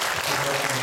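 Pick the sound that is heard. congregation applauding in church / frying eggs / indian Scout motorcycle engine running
congregation applauding in church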